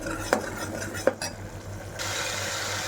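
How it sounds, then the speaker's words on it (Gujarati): A spoon scrapes and knocks against a pan while masala is stirred, two sharp metallic clinks over a low background hum, followed by a steady soft hiss. "આ મસાલો સંતરાઈ જાય ત્યાં સુધી આપણે એને મિક્સ કરીશું"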